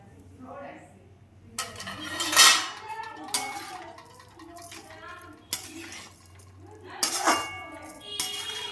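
A spoon mixes salt, pepper powder and other ingredients in a pan over low heat, with a few scraping clinks and clatters of metal against the pan in separate bursts, close by, with a voice heard faintly in between.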